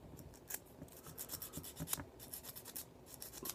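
Sandpaper is rubbed by hand over a 1941 Plymouth model car in quick, faint, scratchy strokes that repeat in an uneven rhythm, close up and with no talking.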